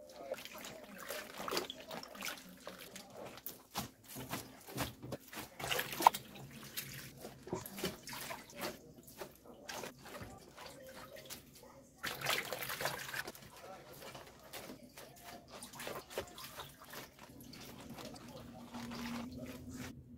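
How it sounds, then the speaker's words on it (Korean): Salted napa cabbage is washed in water for kimchi, with faint, close splashing, dripping and squishing of leaves in bursts. "배추를 2번 깨끗이 씻어줬습니다."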